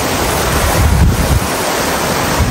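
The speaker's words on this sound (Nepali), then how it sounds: "चिल्ड्रेन पार्कको ठ्याक्कै अगाडिबाट बाढी आइरहेको छ" Floodwater of a swollen river rushing in front of a children's park at Shram Park, a steady, loud broadband roar of churning water and wind that holds throughout, with no voices.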